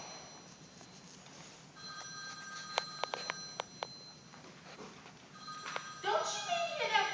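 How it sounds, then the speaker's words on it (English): A telephone bell rings in a domestic drama scene, a few sharp repeated rings standing out over a muted room background, with further rings and movement toward the end. "Don't you mean to hear that phone ringing?"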